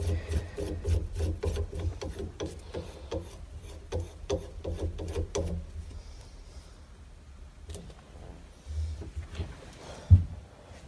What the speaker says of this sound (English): let's go ahead and thread this Battlecraft shift knob on